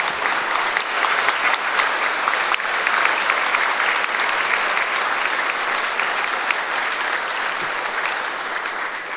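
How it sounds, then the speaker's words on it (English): A large audience at the Kentucky governor's State of the Commonwealth Address gives a sustained round of applause, a thick, steady wash of many hands clapping that holds evenly throughout. "Let's give her a big round of applause for creating opportunities in West Louisville."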